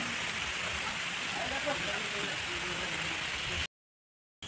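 Rain falls steadily outdoors, a dense even wash of patter on surfaces that holds constant, then cuts to silence near the end.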